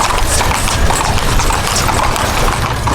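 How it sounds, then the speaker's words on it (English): Hooves of a horse pulling a tourist carriage in Egypt clip-clop in a quick, steady rhythm close by, loud and continuous over road and wheel noise. "We're in horse and carriage."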